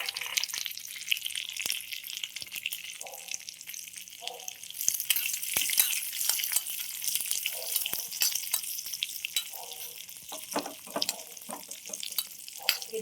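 Raisins roasting and being stirred in a pan for rava laddu, a steady sizzle of frying with intermittent scraping stirs and soft clinks, close and fairly quiet with no talk.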